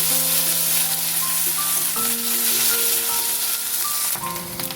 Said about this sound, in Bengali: আদা কাঁচা লঙ্কা আর দিয়ে একসাথে বাটি মশলাটা একটু সাঁতলে নিচ্ছি